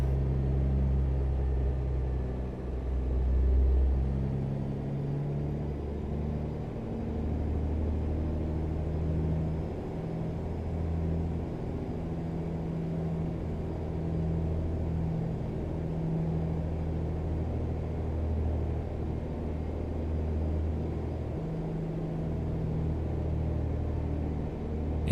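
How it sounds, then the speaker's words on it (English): A Kenworth W900 truck engine drones steadily in American Truck Simulator, a low continuous rumble with slight swells, heard alone throughout. "Alright, I'm assuming we go right. In this big old Kenworth W900."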